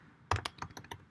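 Computer keyboard keys typed in a short burst of about six distinct clicks, close and fairly crisp, with no voices.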